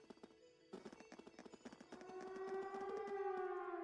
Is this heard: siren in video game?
yes